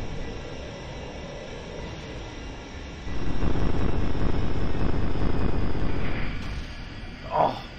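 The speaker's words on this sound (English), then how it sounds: "Damn, the warbird just flew into a hillside." Loud warbird aircraft engine drone that swells sharply partway through as the plane flies into a hillside, followed by a brief bright burst near the end.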